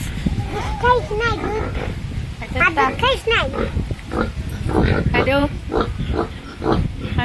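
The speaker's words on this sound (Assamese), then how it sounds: "গাহৰি" Pigs grunt and squeal repeatedly at close range, with people talking over the animals.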